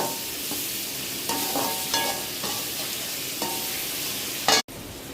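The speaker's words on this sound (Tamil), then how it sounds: "தக்காளி போட்டு நல்லா வதக்குங்க" Chopped tomatoes sautéing for a mango and coconut-milk fish curry, a steady sizzle in the pan with repeated scrapes and clinks of a spoon stirring, close and continuous, ending in a sharp knock and a brief drop.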